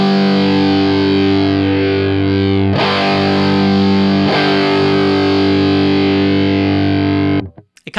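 Electric guitar played through a Color Box overdrive pedal, a loud sustained distorted chord with a fuzzy buzz underneath, struck again twice and left to ring and decay before cutting off, with no talking.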